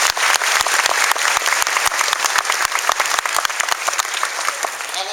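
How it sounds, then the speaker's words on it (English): Sustained audience clapping, brisk and even with many distinct hand claps close by, loud throughout the whole stretch. "I'll clap for that even now."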